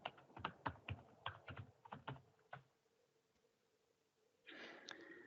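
Someone types a username and password on a computer keyboard, producing a close burst of crisp, irregular key clicks that stops, followed by a soft breathy rush of air.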